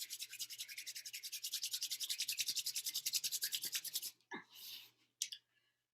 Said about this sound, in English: bring the palms of your hands, the soles of your feet together and rub.